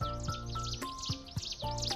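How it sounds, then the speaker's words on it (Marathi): Quick, high bird chirps repeating over a low droning background, faint and somewhat distant. "इथं पण पाखरं आहेत."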